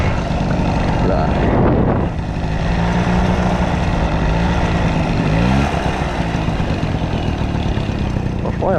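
A Honda Camino moped's small engine drones loudly and steadily while being ridden, with pitch shifting as speed changes, close up and continuous for the whole stretch.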